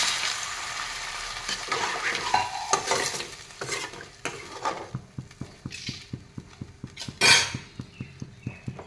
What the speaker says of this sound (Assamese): এইখিনি এনেদৰে তলফৰ কৰি লৰাই দি দিছোঁ